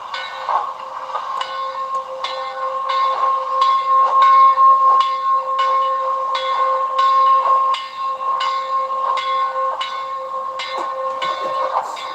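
A steam locomotive chuffs in a steady rhythm while its sustained two-tone whistle sounds continuously over it, loud and close.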